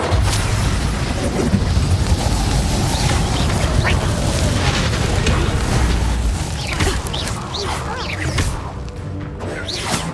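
Spell combat in Hogwarts Legacy fills the scene with booming blasts, crashes and swooshing magic from the Confringo fire spell, a dense run of impacts and whooshes with a brief voiced shout over it.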